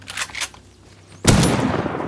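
Gunfire in the survival game Rust: a sudden loud burst of shots breaks in after quieter, muffled sounds and carries on as a dense, noisy rattle to the end.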